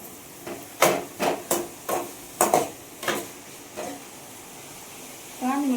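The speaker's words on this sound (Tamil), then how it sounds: "நல்லா ஃப்ரை பண்ணிக்கணும்." Beans, carrots, onions, tomatoes and chillies fry in a pan, sizzling under a series of loud, evenly spaced stirring knocks against the pan, with a brief voice near the end.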